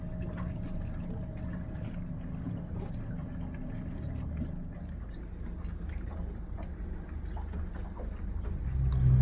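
A 60 horsepower outboard motor drives a boat in a tailwind, giving a steady low drone with water wash that swells louder near the end, no talking.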